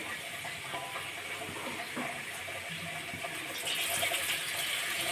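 Water pours into a pan of sarpunti fish curry with winter vegetables, a steady close splashing hiss that brightens and grows a little louder near the end, with no talking.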